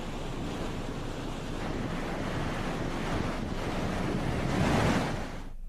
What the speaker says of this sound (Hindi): पहाड़ में बारिश के चलते नदी नाले उफान पर है